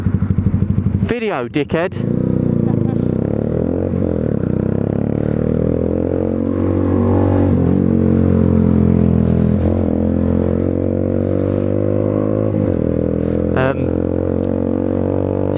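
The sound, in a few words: motorcycle engine and clutch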